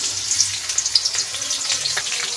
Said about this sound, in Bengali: তেলটা গরম হয়ে গেছে দিয়ে দেবো পেঁয়াজ